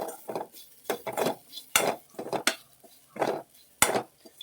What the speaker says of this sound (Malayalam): സോറി കേട്ടോ ചട്ടിയുടെ സൗണ്ട് കേൾക്കണേന്